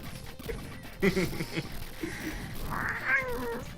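A pet cat meows indoors, a drawn-out plaintive call rising near the end, heard close over room noise and faint background chatter during a casual conversation.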